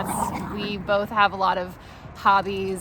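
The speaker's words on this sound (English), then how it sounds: "You might hear the dogs playing in the background." Several dogs play indoors at home, giving brief whimpers and yips in the background while someone talks over them in the foreground.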